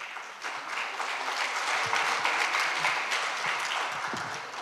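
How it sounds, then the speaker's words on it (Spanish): Conference audience applauding a speaker, a steady, moderately distant wash of clapping that builds slightly and holds for several seconds, with faint voices underneath. "Un fuerte aplauso, por favor."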